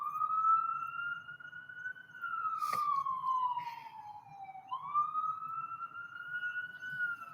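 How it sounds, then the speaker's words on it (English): An emergency vehicle siren wails steadily in rising and falling sweeps, fairly clear and continuous across the whole stretch with faint background rumble and no talk. "y'all hear that siren?"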